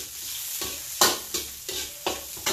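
Unpeeled garlic frying in a pan, a close, hissing sizzle broken by about six sharp stirring scrapes at a steady rhythm, no voices.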